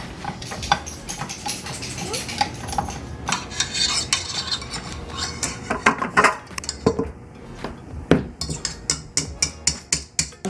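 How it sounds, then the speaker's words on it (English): A spoon stirring chocolate pudding mix in a bowl during meal prep, with clinking scrapes against the dish that grow into quick, rhythmic taps toward the end, close and alone with no talking. "Just give it a quick stir"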